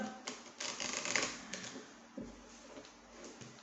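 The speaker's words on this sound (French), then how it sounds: "Allez, avec le grand oracle de l'amour, je coupe et je mélange." An oracle card deck, the Grand Oracle de l'Amour, being cut and shuffled: soft papery riffles and slaps in uneven bursts, close and fairly quiet, with no talking.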